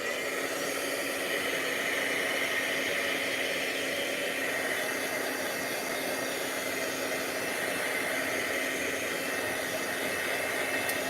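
A craft heat tool blows steadily while heat-setting a stamped background, a continuous close whooshing hiss with a constant motor hum and no pauses.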